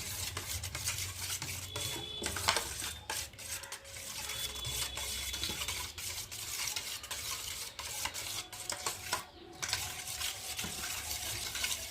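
Eggs beaten with salt in a bowl in a home kitchen, a quick, steady rhythmic whisking with light clinks against the bowl, continuous and close, with no voices.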